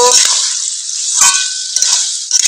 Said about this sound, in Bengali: এবার আমি ভেজে রাখা আলু এবং পুঁই শাক ডাঁটাটা দিয়ে দেব। একটু নেড়ে চেড়ে নেব।